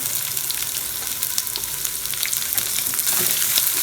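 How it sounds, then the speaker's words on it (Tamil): Finely chopped onion for bun dosa sautés in a pan, giving a loud, steady close-up sizzle and crackle throughout, with occasional stirring scrapes and no voices. "அதையும் போட்டு நல்லா வதக்கிக்கலாம்."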